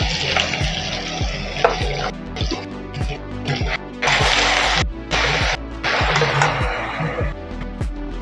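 Onion paste frying in a pan hisses and crackles without pause, rising into louder bursts of sizzle, with regular ticking clicks running underneath.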